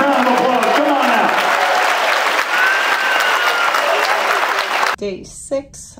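A cruise ship theater crowd applauds loudly after a hypnotist show, sustained clapping with cheers and voices mixed in, cutting off abruptly near the end where a single person starts talking.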